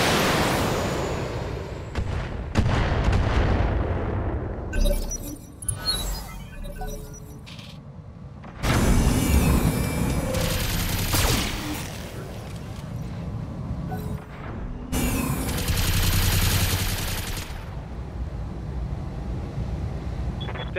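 Artillery fire in a video game: a series of heavy booming blasts and crackling bursts at irregular intervals, some loud and sustained, with quieter gaps between them.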